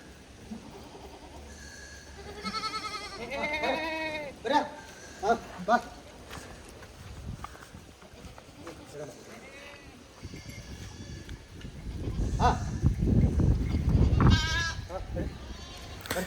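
Goats bleat in short wavering calls amid a herd heading out to graze, several cries close by in the first half, with people talking and wind rumbling through the later part.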